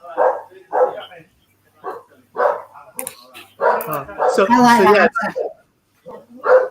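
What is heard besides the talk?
dog barking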